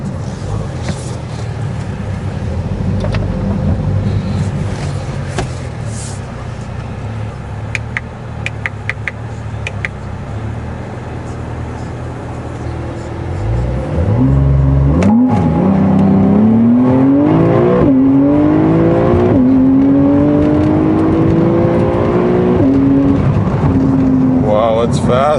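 A Porsche 992 Carrera S, rebuilt from salvage, accelerates hard from inside the cabin, the engine climbing through rising gear-by-gear sweeps loud and close after a steady idle and low cruise, with brief talk early on.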